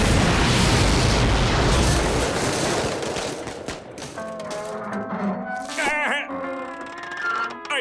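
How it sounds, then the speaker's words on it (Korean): Loud cartoon explosions from a SpongeBob episode, a dense roaring blast that fills the opening seconds and then decays into rumbling debris, followed by lighter scattered crashes and zany sound effects. "얘들이 폭발할 때 무지하게 소리가 크거든."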